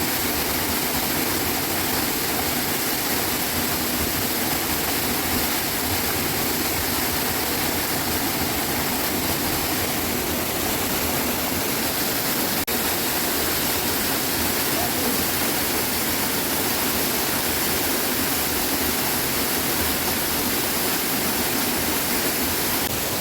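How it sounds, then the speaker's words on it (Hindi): A large waterfall near Silsury village roars as a dense, constant wash of broadband noise. The sound is close and loud, holds steady with no breaks, and covers everything else. "तो देख सकते हो कितना बड़ा वाटरफॉल देख सकते हो।"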